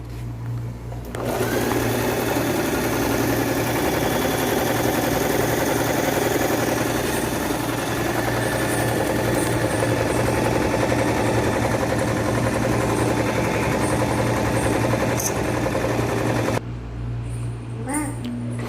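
A Singer Tradition 2250 sewing machine runs a straight stitch, its steady motor hum and rapid needle chatter continuing loud and close for about fifteen seconds before stopping abruptly.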